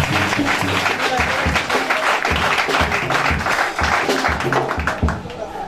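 A church congregation applauds and cheers during a pastor ordination and consecration service, with sustained, dense clapping that continues throughout and is mixed with voices, easing slightly near the end.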